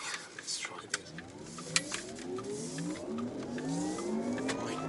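A Porsche Taycan 4S accelerating in Sport Plus mode, its synthetic electric drive sound rising steadily in a smooth climbing whir as speed builds, with light cabin noise and a few faint clicks.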